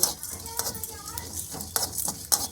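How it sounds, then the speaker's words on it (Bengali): Coriander and cumin spices frying lightly in a pan, with a utensil scraping and clinking against the metal in several short, irregular bursts over a faint background; no one speaks. "এই সমস্ত মশলাগুলোকে আমি হালকা করে ভেজে নেব"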